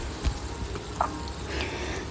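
Tamarind water for puli sadham (tamarind rice) bubbles and sizzles as it boils down and thickens in a pan, making a steady close hiss with a couple of soft pops and no talk.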